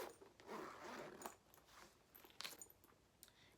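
Zipper on a Coach Jes crossbody bag being pulled, quiet and close, a smooth short zipping run followed by softer scratchy tugs and small clicks of the pull.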